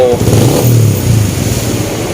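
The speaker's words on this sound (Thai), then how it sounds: "ก็ลองฟังเสียงเครื่องดูครับ คันนี้ขบูเดิมเลยนะครับ" A Yamaha X1R motorcycle with a 60 mm ceramic cylinder upgrade, stock ECU and modified exhaust idles close by, its low throaty rumble swelling briefly as it revs.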